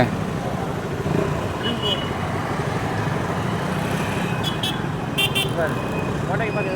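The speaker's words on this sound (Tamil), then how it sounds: "சரியா டிராஃபிக்கில் வந்து மாட்டிட்டு போகிறோம் நம்ம" Busy road traffic in Sainthamaruthu, Kalmunai, Sri Lanka rumbles throughout, with engines droning and several short car horn toots near the end, while people talk over the noise.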